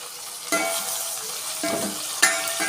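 Chilli and tomato sizzle steadily in a hot pan for fish curry, with a few sharp scrapes and clinks of a spoon stirring against the metal.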